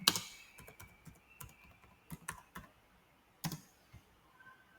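Keys clatter on a computer keyboard in short irregular bursts of clicks, close and fairly quiet, with brief pauses between strokes and no talking.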